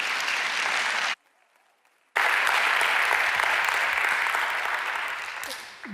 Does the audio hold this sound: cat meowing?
no